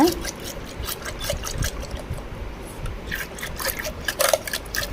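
Curd and ice water churned by hand in a pot to make butter give a continuous wet sloshing and trickling, with small splashes and irregular liquid pulses close by.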